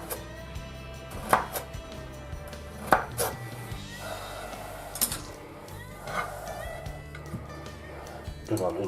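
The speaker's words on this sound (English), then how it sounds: "Chop some slices of radish" A knife chops radish into slices on a board, a few irregular sharp knocks spaced a second or so apart, close and moderately loud, while a person talks over it.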